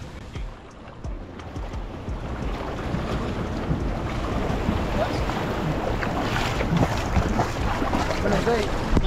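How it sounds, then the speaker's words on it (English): A boat motoring over water near Cabo San Lucas, Mexico, with steady rushing wash and wind buffeting the microphone, continuous and fairly loud throughout. "So we'll jump back on our boat."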